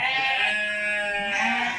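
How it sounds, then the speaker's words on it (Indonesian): Goats in a colony pen on a farm give a single drawn-out bleat, fairly close, with a second wavering call near the end and little else around. "ini kita lihat sebelah kiri saya ini banyak sekali kambing yang sedang makan sentrat ya"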